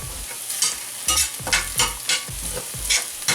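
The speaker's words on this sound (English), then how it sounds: "Now keep on stirring till the time you start smelling the onion burning." Onions frying in a pan for a lamb curry, a steady sizzle broken by rhythmic scraping strokes of a spoon stirring them about once every half second, loud and close.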